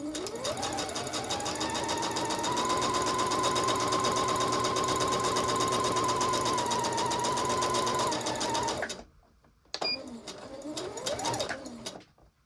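A sewing machine stitches along the fabric edge of an open back dress, a close, continuous rapid whir for about nine seconds, then a pause and a brief second burst of stitching.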